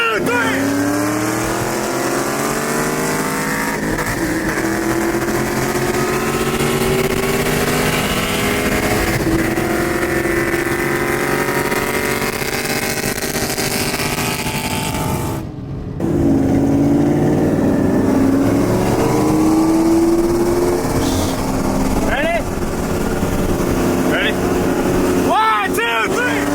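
A Ford Mustang and a Chevrolet Camaro, both 1LE models, race side by side. Their engines rev hard through repeated rising gear pulls, loud and close, with a brief dropout midway and shifts near the end.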